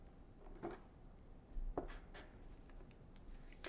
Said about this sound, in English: I will write this number in the column labeled time chosen.